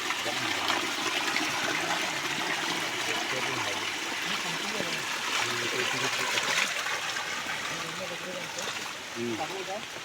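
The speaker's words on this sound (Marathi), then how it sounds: "आता वाढला पाणी." Water rushes steadily through a freshly cleared irrigation channel, a continuous loud gushing and churning, with voices speaking over the flow.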